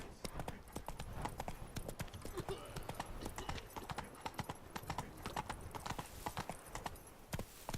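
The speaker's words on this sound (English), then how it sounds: "Whoa there, Roach." Horse hooves clip-clopping in The Witcher 3: Blood and Wine, a brisk, continuous run of close, crisp hoofbeats on a hard surface, with brief background game voices underneath.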